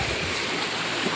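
High river water flowing near a farm, a continuous loud rushing wash close by.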